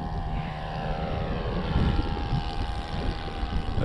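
A Tiger Moth model plane with a new four-stroke nitro engine drones steadily in flight, a loud continuous engine buzz with a low rumble beneath.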